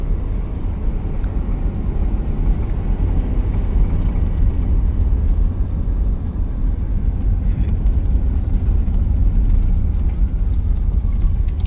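A 1970 Oldsmobile Cutlass Supreme with power steering cruises along, its steady low road rumble and engine drone continuous and fairly loud throughout, with no talking.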